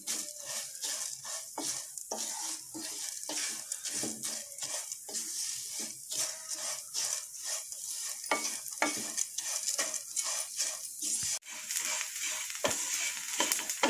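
Flattened rice (aval) dry-roasting in a pan for sweet laddus, a continuous rough rattling hiss as the flakes are stirred and scraped in quick repeated strokes, close and fairly loud, with no voices.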